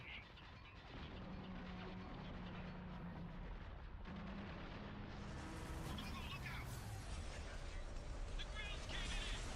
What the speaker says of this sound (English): I can't hear them over the gunfire right now